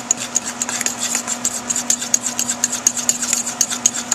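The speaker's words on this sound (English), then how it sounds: "you're going to go ahead and whisk all of these ingredients together" Fork whisking batter ingredients in a bowl for onion rings, a quick steady run of light scraping clicks that continues without pause, close and fairly loud, with no talking.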